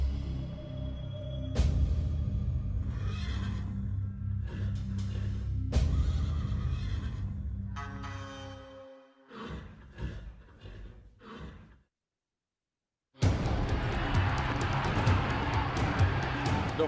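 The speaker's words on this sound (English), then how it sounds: "The horses exploded from the starting ropes" Racehorses burst into the Palio around Siena's piazza as a large crowd roars, with bursts of cheering and a brief hush before the noise surges back loud and dense.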